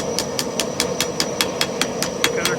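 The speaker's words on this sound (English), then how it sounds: "to blend the scarf in, just use a smaller hammer" A smaller hammer strikes steady, evenly spaced ringing blows on an anvil while blending the scarf of a forged Viking axe, about a dozen crisp metallic hits over a low background hum.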